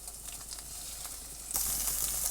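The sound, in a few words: egg frying in oil in a pan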